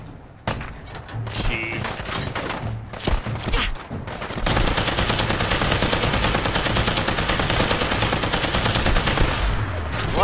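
Rapid rifle gunfire in Fallout 4 Far Harbor, first in scattered bursts and then a dense sustained volley of loud shots, with a brief spoken exclamation early on.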